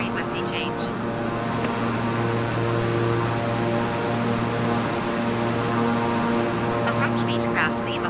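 A Beechcraft King Air turboprop cruises at 4,000 feet in Microsoft Flight Simulator, its engines holding a loud, constant drone with steady tonal hum throughout, no breaks or changes in pitch.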